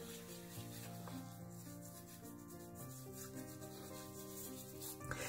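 A shaving brush working Stache Soap Works shaving soap into a lather gives a soft, continuous rubbing and swishing, very quiet, with steady background music and no talk.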